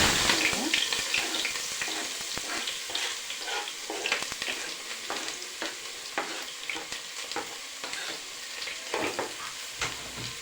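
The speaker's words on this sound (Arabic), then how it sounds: "الزيت حطينا زيت كده وسخن يلا ننزل عليها على طول البصل" Onion frying in hot oil as the base of a sauce for mixed stuffed vegetables, a loud close sizzle with crackling pops and stirring scrapes throughout, no talking.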